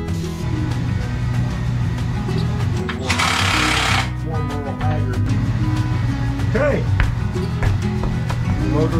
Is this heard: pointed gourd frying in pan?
no